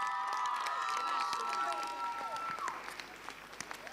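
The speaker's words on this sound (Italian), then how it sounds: "facciamo ancora un grande applauso ad Anna" Audience applause and some cheering at a school festival award event, a dense clapping crowd under a sustained singing voice and tones that fade, with the clapping continuing alone afterward.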